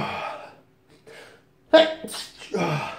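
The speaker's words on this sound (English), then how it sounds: "I'm going to sneeze." A single person sneezes sharply and loudly right after a few quiet breaths, followed by a brief trailing vocal sound and breathing, close to the listener with no clear speech.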